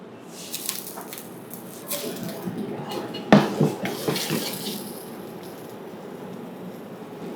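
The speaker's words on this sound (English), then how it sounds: "We'll slightly saute them in a little bit of oil." Blanched vegetables sautéing in a little oil in a hot pan, a steady close sizzle with soft wet crackles and a sharper burst of spatter midway, then settling back to an even hiss.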